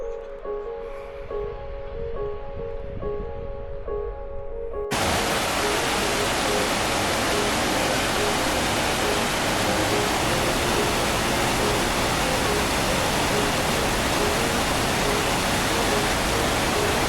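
A creek on the Timberline Trail at Mt. Hood, Oregon, rushes in a steady, loud broadband roar that sets in abruptly after a few seconds of quieter outdoor sound and then holds constant, close and alone.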